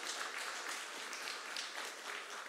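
Steady applause from a church congregation, a dense wash of clapping that holds evenly throughout at moderate distance.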